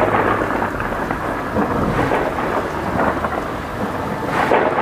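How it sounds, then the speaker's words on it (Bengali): Heavy rain pours down steadily with low rumbling thunder rolling beneath it, a dense and loud storm that fills the whole stretch without any voices. "ঘন অন্ধকার রাত, মুষলধারে বৃষ্টি হচ্ছে।"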